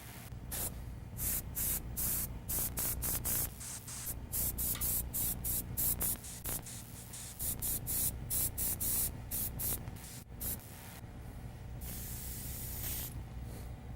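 An airbrush blows white paint out in rapid, sharp hissing bursts, some quick and clustered and others drawn out, ending in a longer steady spray, close up with no talking.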